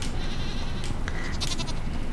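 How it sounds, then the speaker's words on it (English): Goats on a Stardew Valley farm let out a couple of short bleats over steady background game ambience. "I have got us two goats."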